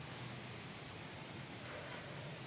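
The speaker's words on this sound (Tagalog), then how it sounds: "Grabe, panay ulan eh. Every ano, umuulan." Steady rain falls outside as a dense, even hiss with no break, moderately loud and with no voices over it.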